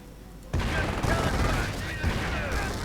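Dense, continuous gunfire bursts in a video game battle, loud and sustained with overlapping rapid automatic fire and occasional heavier booms, no voices.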